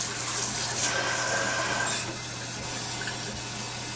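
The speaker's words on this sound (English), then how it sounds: "I'm running this here cool water over them like this" Cool tap water runs over cooked potatoes in a kitchen, a steady broadband splashing rush that carries evenly through the clip and eases slightly partway, with a faint low hum beneath and no speech.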